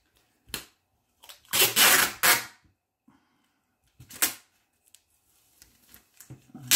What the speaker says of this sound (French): Et je vais passer les ciseaux